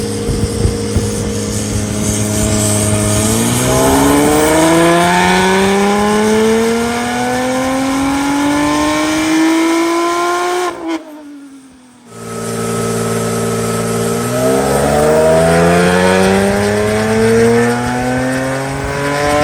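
A Porsche with hybrid turbos, titanium exhaust and a custom tune revving hard on a dyno, engine note climbing loud and close through a long pull, a brief drop near the top, then climbing again.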